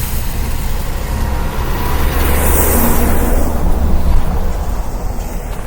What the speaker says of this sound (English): Comes the trash truck.